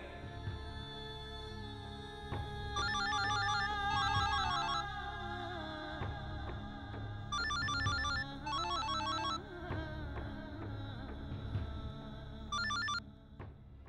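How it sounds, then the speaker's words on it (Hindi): A telephone rings in repeated bursts of a bright electronic ringtone, with clusters of short trilling pulses separated by gaps, heard over a steady rhythmic background score. "हम कब से तुम्हें फोन लगा रहे हैं, तुम फोन क्यों नहीं उठा रही हो?"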